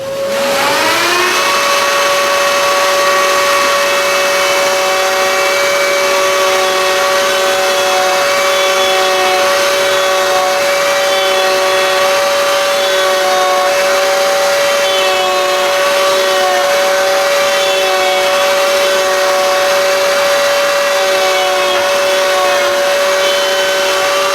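A PantoRouter cuts mortises into wooden table legs in a small woodworking shop: a steady, loud router whine with sustained tonal hum, holding constant for the full stretch with slight wavering and no talk.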